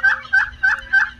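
A turkey gobbles during mating, four rapid, loud, close warbling calls in a regular rhythm with no talk over them.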